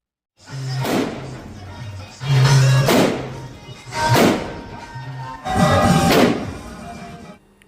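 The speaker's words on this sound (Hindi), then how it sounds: "टैंक नुमा बनाए एक मोटर वाहन से जो धमाके आप सुन रहे थे" Four heavy booming blasts from a tank-shaped motor vehicle at a festival in Nathdwara, each with a whooshing rumble and a roughly one-second tail, come at irregular intervals about a second or two apart.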